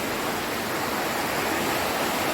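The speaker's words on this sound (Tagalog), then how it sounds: "Ayan, ulan na guys." Rain pours down steadily in a home yard planted with cassava, a dense, even hiss filling the air close by, with no talking heard.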